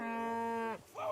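A cow in Kingdom Come: Deliverance 2 lets out one loud, close, drawn-out moo, followed by a short lower grunt, with no talk over it.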